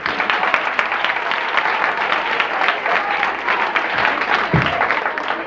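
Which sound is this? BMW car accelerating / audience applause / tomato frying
audience applause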